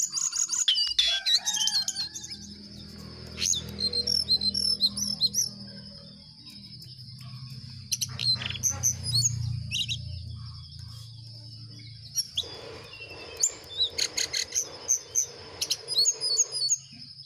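Male jongkangan bird singing a varied series of high chirps and trills in bursts separated by pauses, fairly close, with a low hum in the background.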